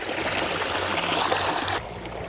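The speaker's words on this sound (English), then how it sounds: "there's a close-up of the water coming right out of the ground" Spring water wells up out of the ground into a spring-fed pond with a steady, close rushing and gurgling wash that drops slightly in level near the end.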